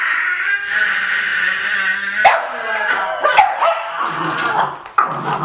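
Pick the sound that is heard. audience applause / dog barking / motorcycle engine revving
dog barking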